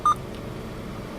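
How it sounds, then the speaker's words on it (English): A single short electronic beep from the Bluetooth voice activation in a Smart fortwo 0.9T Prime Sport Premium Twinamic, sounding right at the start and then giving way to a quiet, steady cabin hum. "There's your voice activation for Bluetooth."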